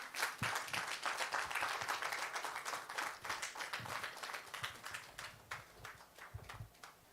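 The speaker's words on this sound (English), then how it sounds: "Another round of applause for our keynote speaker for that brilliant keynote speech." Applause from a conference audience after a keynote speech on women, wealth and real estate: a full burst of many hands clapping that thins out gradually, leaving scattered individual claps toward the end.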